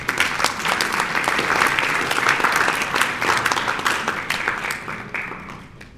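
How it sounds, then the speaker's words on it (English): Applause from an audience at a book launch for Muslim Presence in Rodrigues, honouring the author; steady dense clapping that holds for several seconds, then thins and fades toward the end. "A big applause for the author."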